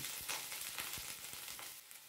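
Potatoes drop into hot oil with black cumin seeds for a no-onion, no-garlic Bengali vegetarian dish, giving a close, continuous sizzle with light stirring scrapes throughout.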